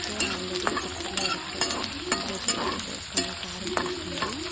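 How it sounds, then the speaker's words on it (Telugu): Garlic fries in hot oil for a tomato pickle tempering, a constant close sizzle broken by regular scraping stirs of a spoon in the pan, with no talking. "పచ్చడి తాలింపుకి అలా వెల్లుల్లిగడ్డలు బాగా బ్రౌన్ షేడ్లో వచ్చే వరకు వేయించుకొని"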